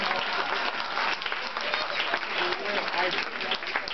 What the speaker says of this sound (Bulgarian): И моля за вашите аплодисменти